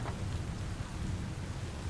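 Steady rain falls in the video game Satisfactory, a dense, even hiss with a low rumbling undertone, continuous and close with no voices.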